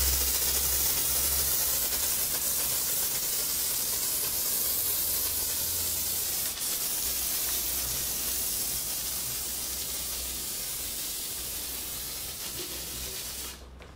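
Continuous broadband foam spray from a Marolex Axel Foamer pump sprayer with the average light-blue nozzle, strong at first and slowly weakening as pressure drops, a close steady hiss with no talk.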